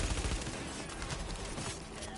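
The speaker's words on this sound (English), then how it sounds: "How do you like my machine gun?" Rapid sustained machine gun fire in the video game The Division, a dense unbroken rattle of shots that stays loud and close through the whole burst.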